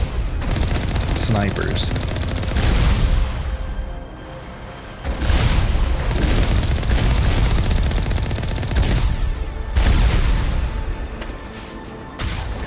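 Continuous gunfire and booms from combat in the Mass Effect video game, loud and sustained with short lulls, heard under someone talking throughout.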